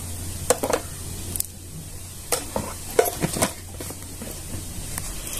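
Sabudana khichdi being stirred in a pan over low heat: a soft sizzle with scattered spatula scrapes and clinks against the pan in irregular bursts, no voices.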